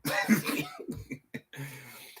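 A single cough up close, followed by a few short throaty sounds and quieter breathy noise.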